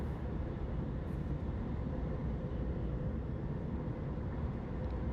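Steady low rumble of a train ride setting from a visual novel game, a continuous broadband vibration with no breaks and no voices, loud and close, like sitting inside a moving railway carriage.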